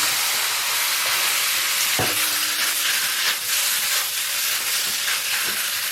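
Squid sizzles and hisses loudly in a hot wok, stir-fried with soy sauce, Sichuan pepper powder and star anise powder, a continuous frying roar broken by a sharp scrape of the spatula.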